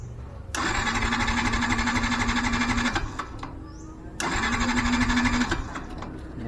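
An engine cranks on its starter during a compression test, a steady whirring chug in two bursts of about two and a half seconds each, close and fairly loud with a short quiet gap between.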